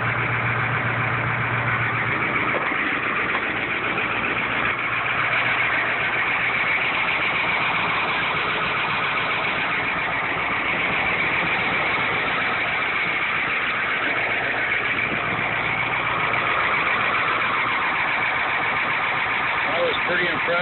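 A 1974 Ford 8000 truck with a Caterpillar 1160 engine idles steadily throughout in a constant, loud diesel rumble with no pauses.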